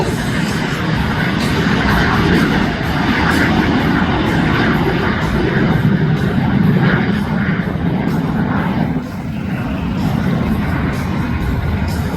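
A MiG-17 jet fighter with afterburner roars past at an airshow, a loud continuous broadband jet rumble that swells and holds steady with a slight dip near the end, with no clear talk over it.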